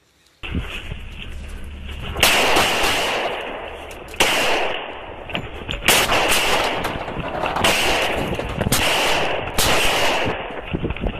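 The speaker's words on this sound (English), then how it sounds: "the suspect who was caught on dash cam footage in a shootout with Arkansas police earlier this month" Rapid bursts of gunfire from an Arkansas police dash cam shootout with a suspect, sharp cracking volleys repeating across the clip in several clusters, loud and close, with no talk over them.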